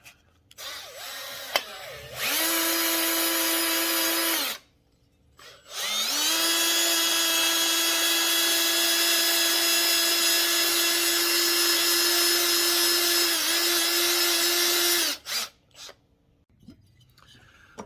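A drill spins a Scotch-Brite roll lock abrasive pad against a fried engine cylinder, a loud steady whine in two long bursts, a short one and then a longer one, with a brief pause between them.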